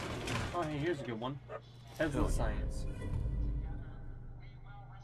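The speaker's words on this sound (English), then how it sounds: "Sorry if you hear my dogs barking again." Pet dogs bark a few times in the background, their yips and woofs partly buried under a person talking steadily over them.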